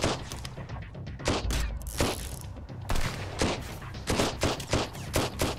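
Machine gun fire in the survival game Sunkenland rattles in rapid, loud bursts, with dense repeated shots and heavy thuds packed closely across the whole stretch and brief gaps between volleys.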